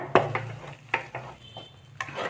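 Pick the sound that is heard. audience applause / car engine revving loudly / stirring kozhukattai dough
stirring kozhukattai dough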